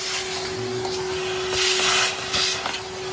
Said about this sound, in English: you would use a vacuum cleaner to clean your motor